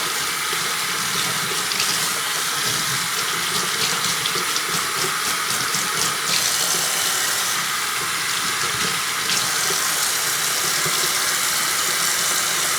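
A tap runs steadily into a sink while a soiled cloth diaper is rinsed and squeezed by hand, giving a continuous loud splashing rush with small shifts as the fabric moves under the stream.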